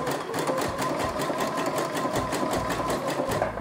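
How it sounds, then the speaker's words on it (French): A sewing machine runs steadily, stitching a zigzag across overlapping elastic for a pencil skirt, a close, continuous whirring hum with a fast needle rhythm and no talk. "je peux tout simplement venir piquer un petit zigzag à la machine à coudre"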